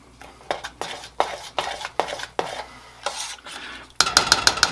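Spoon stirring fresh oregano into a chicken lasagna sauce in a pan, a rhythmic series of close scraping strokes against the pan, with a sharper clink of utensils at the end.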